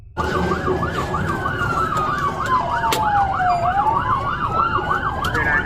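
Police sirens wail during a low-speed chase of a large vehicle, loud and close, with a rising-and-falling yelp cycling rapidly over a rumbling engine and road noise. A second, slower wail runs alongside.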